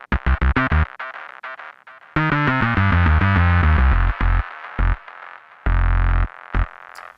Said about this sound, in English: I doubled that bass part and added some higher frequencies, some distortion to help it cut through the mix